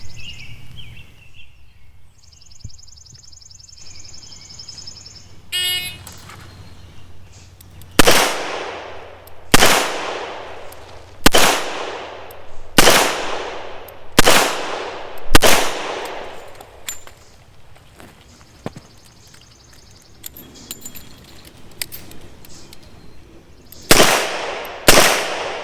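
An S&W 625 revolver fires during a timed law-enforcement qualification course: loud, close single shots, a run of five evenly spaced reports, a pause with quieter handling clicks, then more shots near the end.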